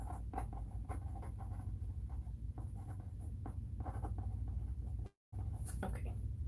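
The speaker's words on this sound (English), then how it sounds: "I'm going to write on this." Pen scratching across paper in a craft room, continuous close strokes with brief pauses and a short dropout near the end, with faint background murmur.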